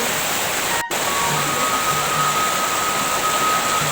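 A river's fresh water rushing steadily, a loud, continuous broadband wash with no clear pauses and no voices.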